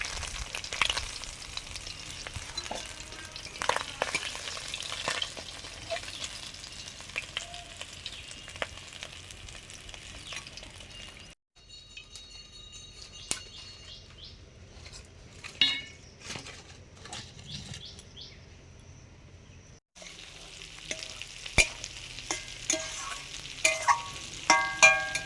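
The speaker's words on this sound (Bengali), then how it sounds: "প্রথমবারে মাছগুলো ভাজা হয়ে গেছে, তুলে নিচ্ছি" Small mourola fish frying in a pan with a busy crackling sizzle and scattered scrapes and clinks of utensils, a quieter pause midway before the frying noise returns, no speech.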